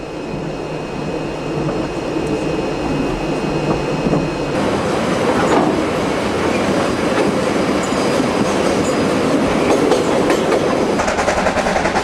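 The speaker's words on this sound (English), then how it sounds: "Turning east on the tight curve from the Stillwater Junction, the train starts its long uphill climb to Otira" A train climbs the long uphill grade from Stillwater Junction toward Otira, a continuous loud rumble of rolling wagons with rhythmic clattering over the rails and faint high wheel tones throughout.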